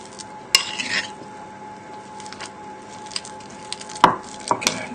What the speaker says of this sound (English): all we're going to do is just mash this up together. Just using a teaspoon.